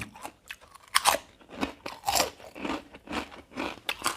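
Crispy Thai pork rind eaten with green chili dip (nam prik num), giving sharp, close crunches and chewing bites in an irregular rhythm, about a dozen crackling bursts with no talking.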